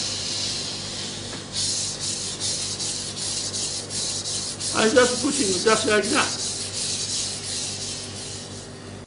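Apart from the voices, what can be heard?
knife sharpened on whetstone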